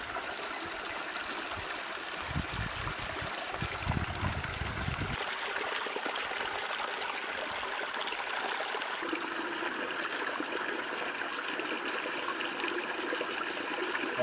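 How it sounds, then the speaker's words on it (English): A Rocky Mountain stream in Colorado flowing steadily, a continuous rushing babble with a brief deeper gurgle near the start, moderately close and without speech. "That's real Rocky Mountain water right there."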